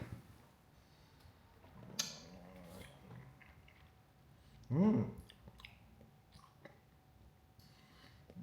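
Someone eats a watermelon ice lolly in a quiet room, with a few soft bites and chewing sounds, one louder crunching burst around midway, and faint murmurs between.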